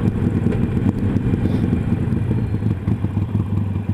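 A motorcycle rides along the road with a steady, close engine rumble and a rough, churning low drone throughout, with no talking.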